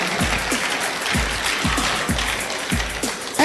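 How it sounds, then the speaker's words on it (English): Audience applause rolls on steadily at a birthday and anniversary celebration, a dense wash of clapping with a few louder, rhythmic claps standing out near the listener. "Please, a round of applause to her."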